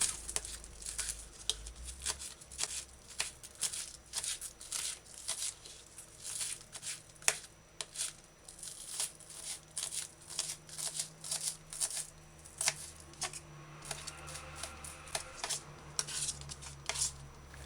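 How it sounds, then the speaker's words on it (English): Knife chopping scallions finely on a cutting board, a steady run of quick, light, close taps and clicks over seventeen seconds with faint background hum. "dice scallion fine."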